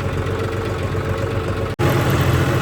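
A tractor engine idles close by in a field during wheat sowing, a steady, rumbling, continuous low chugging drone with a brief cut partway through.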